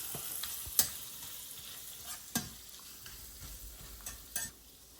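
Pancetta and garlic stirred in a hot pan for gluten-free pasta carbonara, with a steady soft sizzle, a few scraping stirs and light clicks of a utensil against the pan, close and moderately quiet.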